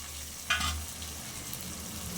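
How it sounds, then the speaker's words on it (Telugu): Okra goes into hot oil with cooked-down tomatoes in a pan, giving a continuous close sizzle with a brief louder burst as it is stirred. "తర్వాత బెండకాయలు అయితే వేసుకుంటున్నాను."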